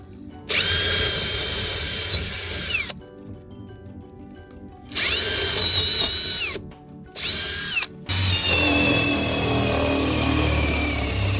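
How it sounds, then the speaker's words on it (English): A power drill whines in three separate bursts with short pauses between as it drills a conduit hole through a shed floor, the motor pitch dipping under load, followed by a lower continuous grinding. "get a straight line from the conduit up to the floor of the shed and then drill my hole"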